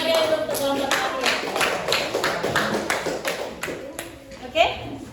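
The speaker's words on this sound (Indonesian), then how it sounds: "Beri tepuk tangan yang meriah untuk kelompok terakhir." Classroom audience clapping for the final presentation group, a dense run of hand claps that builds, then thins out toward the end.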